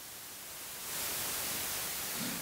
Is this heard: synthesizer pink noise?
yes